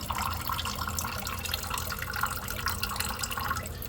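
Water being emptied out of a toilet tank during a flush valve replacement, a steady trickling, splashing flow with small drips, fairly close and continuous throughout.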